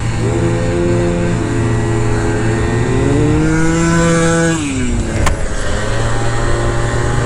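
Several scooters ride along a desert path, with overlapping engine drones that rise and fall in pitch as riders accelerate and pass close by, followed by a brief sharp scrape or knock and continued engine noise.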